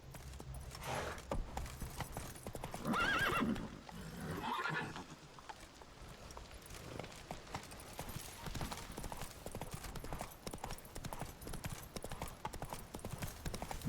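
A horse gallops in The Witcher video game, its hooves clip-clopping in a fast continuous rhythm, with a neigh near the start, under a game soundscape.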